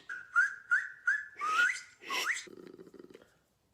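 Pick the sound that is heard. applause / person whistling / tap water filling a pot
person whistling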